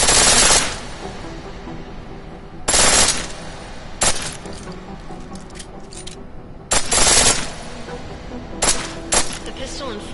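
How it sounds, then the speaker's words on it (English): A pistol fires on full auto in Deus Ex: Human Revolution, letting off loud, rapid bursts of shots. Five or so clipped volleys are separated by short pauses, with faint mechanical clicks between them. "The pistol in full auto will take down targets fast, but it'll burn through your ammo"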